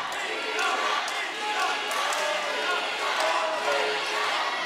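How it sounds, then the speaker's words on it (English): An MMA crowd cheers and roars at an Invicta FC fight in the Scottish Rite Temple, a dense, continuous wall of voices with a commentator talking over it. "Crowd coming alive here in the Scottish Rite Temple for Mina Grusander"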